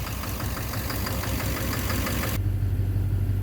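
Duramax LMM diesel engine with a knock, a loud, steady rhythmic idle clatter close to the mic that cuts abruptly to a deeper, smoother rumble partway through.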